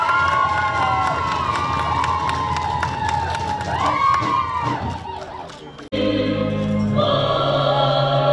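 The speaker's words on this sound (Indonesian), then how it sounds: "Kita boleh tepuk tangan buat Papua Barat." A stadium crowd at a motorcycle road race medal ceremony cheers and claps for West Papua, a loud, steady roar with shouting that dips, cuts off briefly, then resumes with music and an announcer's voice.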